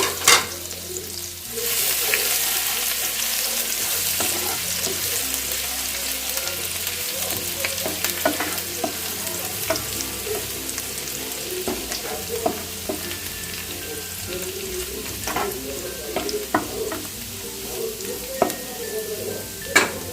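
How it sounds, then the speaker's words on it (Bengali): Chopped garlic frying in a pan for a palak paneer recipe, a continuous loud sizzle with scattered crackles and pops, plus occasional scrapes and knocks of a spatula stirring, no talking. "রসুন কুচিগুলোকে একটু ভালো করে ভেজে নেব"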